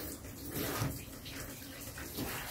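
Water runs and splashes steadily during a rinse after a protective coating is removed, a faint continuous wash with small surges, no talking over it.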